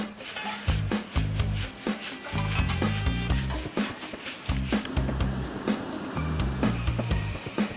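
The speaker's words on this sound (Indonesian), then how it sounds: "gula semut harus kembali diayak untuk memisahkan gula yang sudah halus dan yang masih kasar" Granulated palm sugar being sifted through a sieve after cooking, a loud rhythmic rubbing and shaking rasp repeating in regular bursts, close and continuous with no talk.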